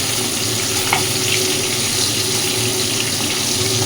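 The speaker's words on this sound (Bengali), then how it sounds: "এই তিনটে মাছ আগে ভেজে নিই তারপরে ওদের মাছগুলো ভাজবো" Fish fry in a pan of hot oil with a steady, dense sizzle that stays constant and fairly loud throughout, with a faint clink partway through and no talking.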